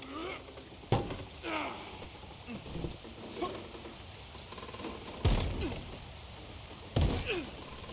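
Wagon wheel being lifted and fitted back onto a wagon in Red Dead Redemption 2, heard as a few sharp wooden thunks and knocks amid scraping and handling noise, with light ambient rain-like background.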